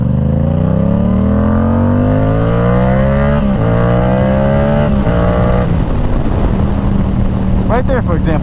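A Yamaha R7 motorcycle pulls hard up through the gears, its engine note climbing in pitch with brief dips at each shift, loud and close with wind rush.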